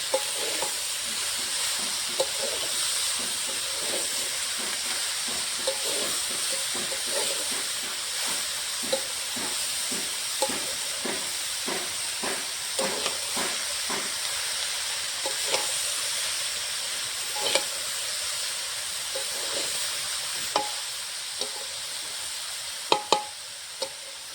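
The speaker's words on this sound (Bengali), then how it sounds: "এখন বাঁধাকপির উপরে দিয়ে দেবো হলুদ গুঁড়ো, স্বাদ মতো একটু মিশ্রণ দিয়ে ভালো করে নেড়ে চেড়ে কষিয়ে নেবো।" Cabbage dusted with turmeric powder is stir-fried in a wok, giving a steady sizzle and hiss under repeated scraping and tossing strokes of the spatula, close and continuous, with no one talking.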